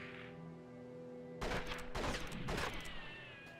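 Gunshots fired in Red Dead Revolver during shooting training, a short burst of loud, sharp reports in quick succession following a lone steady tone from the game.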